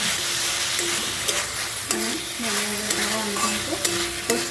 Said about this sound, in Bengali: এবার আমি এখানে অ্যাড করে দেবো ভেজে রাখা আলুটা আর ঝিঙেটা। এটা ভালোভাবে মিক্স করে নেব।